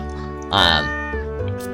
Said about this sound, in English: Marnie's here to give us this cat